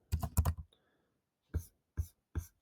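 Keys on a computer keyboard tapped in a quick burst of several strokes, a pause, then three separate presses, close and quiet, with no voices.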